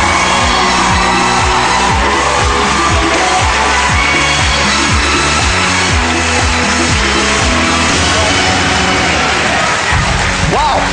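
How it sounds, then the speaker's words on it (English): A large television studio audience at a Britain's Got Talent semi-final results show roars with sustained applause and cheering, loud and dense throughout, with voices mixed in. "Ladies and gentlemen, please give them a huge round of applause."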